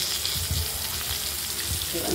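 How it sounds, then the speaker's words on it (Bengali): Potatoes frying in oil in a pan with a steady, soft sizzle, joined by light scraping or stirring sounds at close range. "এই আলুগুলো হালকা হলুদ করে ভেজে নেওয়ার সময়"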